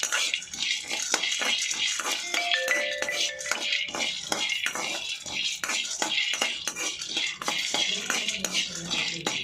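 Peanuts dry-roast in a pan and are stirred constantly, producing a dense run of close, crisp rattling and scraping clicks with no talking.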